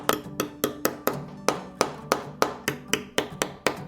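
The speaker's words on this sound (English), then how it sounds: "I have finished hammering in all my grommets." A hammer strikes a metal setter to fix grommets into a handmade journal, about a dozen sharp, evenly spaced blows with short ringing decays, close and loud, with no voices.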